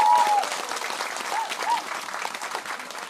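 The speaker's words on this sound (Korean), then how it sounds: "다른 분들에게 박수 한 번만 주십시오." A street busking audience in Gapyeong claps in a short burst of applause, moderately loud and close, with a voice speaking over it.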